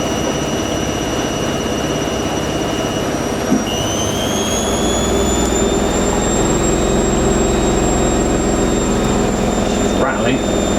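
A Hoover washing machine spins steadily at 1200 RPM, a loud continuous whirring hum with a high whine that shifts pitch partway through, plus faint rattling.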